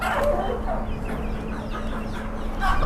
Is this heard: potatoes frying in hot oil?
no